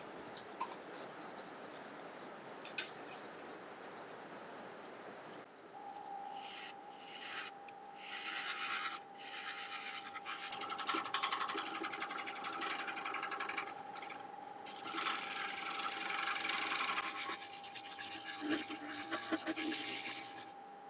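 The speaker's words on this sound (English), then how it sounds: "I'm just going to give it a touch with the negative rake scraper." A negative rake scraper rubs lightly against a spinning 17-inch yew bowl on a wood lathe, giving a soft, continuous scraping hiss over the lathe's steady whine, quiet and close.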